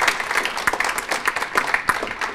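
An audience applauds at the end of a SETI science talk: dense, even clapping from a roomful of people, sustained and fairly close, with no speech over it.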